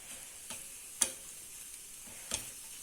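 A cheese omelette cooks in a pan with a faint, quiet sizzle, broken by a few soft ticks and taps at irregular intervals.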